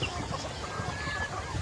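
Chickens cluck steadily nearby in a neighbourhood yard, a continuous murmur of soft, overlapping fowl calls with no talk.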